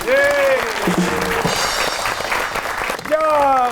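A studio audience on a comedy talk show claps to welcome guest Salma Khan, a sustained patter of applause between tonal vocal or musical phrases at the start and end.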